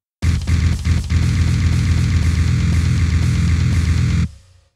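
Dense, heavily distorted djent-style guitar riff chugging on a single low note, loud and chaotic for about four seconds before cutting off abruptly.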